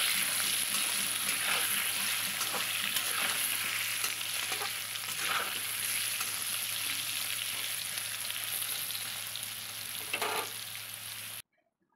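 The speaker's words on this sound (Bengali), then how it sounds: "এবার নুন হলুদটা দিয়ে একটু ভালো করে ভেজে নিতে হবে।" Potatoes seasoned with salt and turmeric sizzle in hot oil with a loud, dense, continuous crackle, with occasional stirring scrapes, before the sound cuts off abruptly.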